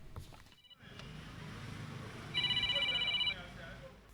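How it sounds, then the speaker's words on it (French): A mobile phone ringtone plays a bright, repeating electronic melody for about a second, rising over a busy background of murmuring voices and general room noise in a television news report. "La sonnerie du téléphone portable, un signal sonore personnalisable sur chaque appareil mobile"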